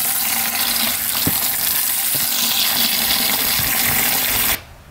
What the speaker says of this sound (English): Right when you turn this valve, this should drain of all the paint inside the hose line.